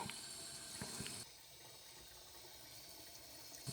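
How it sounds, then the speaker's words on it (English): Water runs from a kitchen faucet into a sink as a steady, soft hiss, with the flow dropping to a gentler, quieter stream partway through. "Water's flowing"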